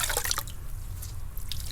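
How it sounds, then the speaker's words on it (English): Water dripping and splashing from a rag being wrung out over a bucket of clean water, a quick cluster of close drips and trickles followed by scattered drops. "Just gonna wring it out"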